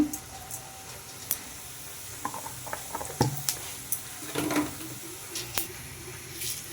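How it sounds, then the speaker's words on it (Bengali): Cumin seeds tempering in a little oil in an iron wok, a soft steady sizzle broken by scattered small pops and crackles, close but fairly quiet. "একটু জিরে ফোড়ন দেব"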